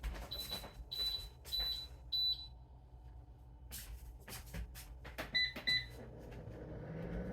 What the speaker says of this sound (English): That first beep was for the toaster.